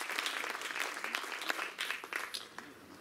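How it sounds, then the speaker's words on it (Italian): Scattered audience applause at a live guitar festival concert, with individual claps distinct and rising and falling unevenly before it thins out. "facciamo un grande applauso"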